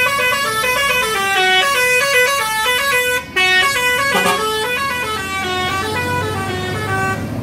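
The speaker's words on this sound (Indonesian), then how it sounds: "Terlihat satu unit bus Palala E02 dengan julukan Senopati." The Palala intercity bus E02, nicknamed Senopati, departs for Jakarta and sounds a loud melodic multi-tone horn. The tune plays continuously in rising and falling steps over the low rumble of the bus, with a brief break near the middle.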